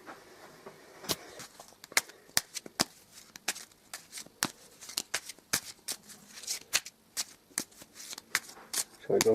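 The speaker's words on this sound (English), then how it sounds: "give them a good shuffle." Eldritch Horror game cards shuffled by hand in a run of sharp, rapid riffle snaps and slaps at close range, uneven in rhythm, with a brief voice at the very end.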